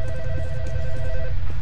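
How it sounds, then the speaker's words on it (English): Telephone ringing inside a horror-style video game, a steady electronic ring tone sustained over a low rumbling ambient background, fairly loud and continuous with no talk. "I hear a phone."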